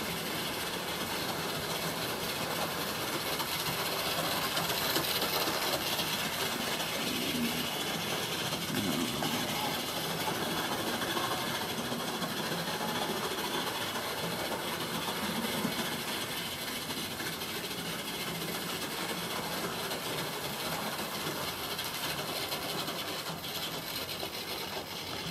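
OO gauge model trains run around a layout track, a steady low mechanical rumble and hum that continues evenly throughout without talking.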